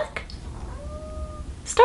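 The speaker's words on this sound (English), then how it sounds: "Is that a kitty? Do I hear a kitty?" A cat gives a single drawn-out, tonal meow of about half a second in a quiet indoor room, moderately faint, followed by a brief louder sound at the very end.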